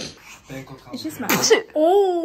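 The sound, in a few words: sneeze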